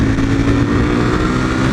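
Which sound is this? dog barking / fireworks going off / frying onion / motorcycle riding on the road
motorcycle riding on the road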